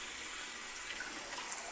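Tap water streams steadily over a handheld shower head as it is rinsed, a short, even hiss of running water with no voices.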